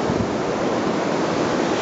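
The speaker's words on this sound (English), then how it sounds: "this is the ocean" Ocean surf washing onto a beach in daytime, a steady broadband roar of breaking waves with wind buffeting the microphone, loud and continuous throughout.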